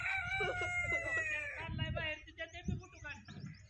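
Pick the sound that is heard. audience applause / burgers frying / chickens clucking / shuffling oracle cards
chickens clucking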